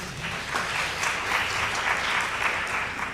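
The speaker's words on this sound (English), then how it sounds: "Yes, let's applaud that." A church congregation breaks into steady, sustained applause, a dense wash of clapping hands filling the room for a few seconds with no talk over it.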